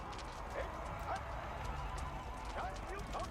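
Horse archers galloping in the strategy game Age of Empires 4, a steady clip-clop of hooves under continuous battle ambience, with someone talking over it.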